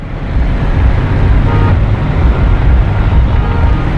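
Road traffic jams near the Red Line BRT bridge construction in Karachi, a loud, steady roar of engines and road noise with a faint horn toot, close by and with no talking.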